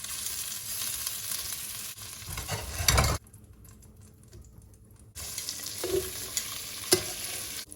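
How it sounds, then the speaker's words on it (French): Beef sizzles loudly as it sears in a small hot pan with scraping and stirring, then briefly drops quieter before the frying hiss returns. "Je saisis de chaque côté et après je réserve et je mets le reste."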